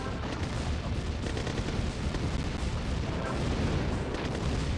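Artillery fire from the real-time strategy game Command & Conquer makes dense, continuous rumbling booms and blasts that crowd together into a loud wall of battle noise, with no talking.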